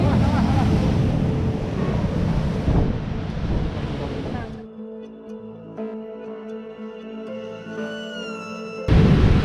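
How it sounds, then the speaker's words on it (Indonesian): Heavy, roaring surf crashes continuously against a cliff for several seconds, then cuts to calmer, quieter ambience with a faint tonal hum, before a loud burst returns at the end. "ombak yang tanpa henti menghantam tempat"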